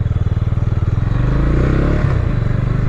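A MASH Six Hundred motorcycle engine runs steadily under load while riding, its loud, close, pulsing thump building into a continuous drone that shifts pitch midway, with no talking over it.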